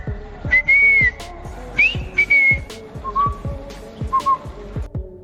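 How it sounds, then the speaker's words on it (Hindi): A person whistles in reply, several short rising and wavering whistled notes close by, set against a busy background of repeated thumps and clatter. "तो इन भाई साहब ने सीटी बजाकर ही जवाब दिया"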